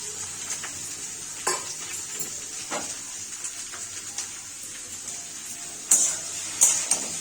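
Green tomatoes go into a very hot wok a little at a time, bringing a steady close sizzle broken by several sharp bursts and scraping stirs, with louder hissing flares near the end and no speech.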